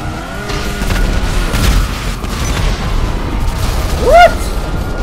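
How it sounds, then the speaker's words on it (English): A heavy, rumbling rocket explosion booms in GTA Online, a loud, sustained low roar mixed with game engine noise and a short rising whistle near the end. "Oh my god, that was my last rocket!"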